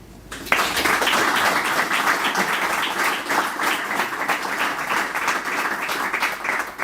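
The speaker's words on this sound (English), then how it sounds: "Please, a warm round of applause of them" A crowd at an aircraft engineers' congress in Lisbon applauds steadily, a dense wash of clapping that starts abruptly and holds at an even level throughout.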